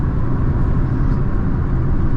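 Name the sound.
Holden JE Camira engine surging at full throttle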